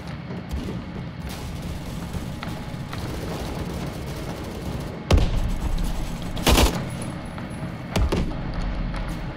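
Rifle gunfire from an AUG HBAR in the Phantom Forces video game, with a few sharp, loud shots standing out over a busy, constant background of game noise.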